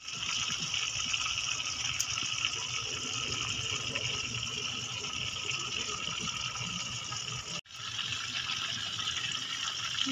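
Cooking oil poured into a frying pan for frying fish, a steady continuous liquid rush with a brief break near the end, heard alone without talk.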